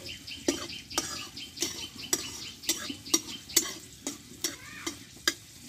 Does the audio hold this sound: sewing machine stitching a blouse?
no